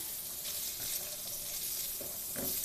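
Stir-fry vegetables for a ramen stir fry sizzle steadily in a pan, a soft continuous hiss with a few louder scraping stirs near the end and no talk.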